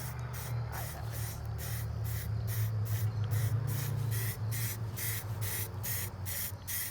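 Spray can painting BMX bike parts gold, a steady close hiss running throughout with rhythmic pulsing bursts as the nozzle is pressed and released, alone without talk.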